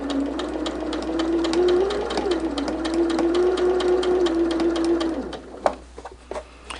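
A sewing machine runs steadily, stitching a stained glass quilt top with a rapid, even needle rhythm for about five seconds, then stops, followed by a few sharp clicks and handling knocks.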